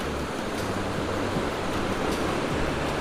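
A Himalayan mountain river rushes steadily along the Nubra Valley to Pangong Lake route. Its broad, even hiss of flowing water sounds close and continuous, with no voices.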